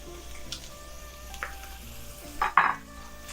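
A New York ribeye steak sizzling in butter with rosemary and garlic in a cast iron pan, a steady soft frying hiss broken by a few sharp clanks and spatters as it is basted.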